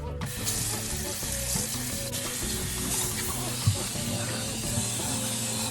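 Running warm sink water rinses dyed denim, a steady hiss with faint sloshing that continues throughout.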